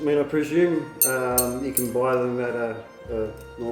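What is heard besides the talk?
No everyday noise stands out behind the speech.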